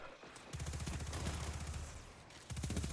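Arbalest exotic linear fusion rifle firing in Destiny 2, a loud sustained rattle of rapid shots that fades briefly, then resumes with another burst near the end.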